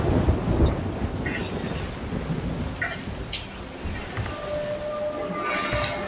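A thunderstorm at sea in the video game Sea of Thieves: steady heavy rain hisses over deep rumbling thunder, with a few faint tones and water sounds drifting through.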